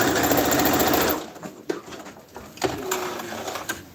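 A sewing machine runs in a loud, steady whir while stitching a mascot costume, then stops after about a second, followed by scattered clicks and handling sounds at close range.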